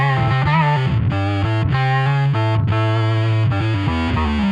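A bass guitar played through a Boss OC-3 Super Octaver in drive mode sounds heavily distorted and fuzzy, with a steady string of thick plucked notes, loud and up close, with no talking.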